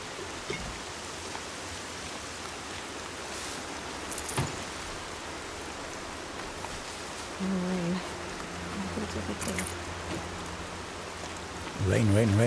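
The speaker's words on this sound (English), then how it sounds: "Rain, always rain." Rain in the Horizon Zero Dawn video game, a continuous hiss of falling rain at even loudness, with brief tonal game sounds and a short voice near the end.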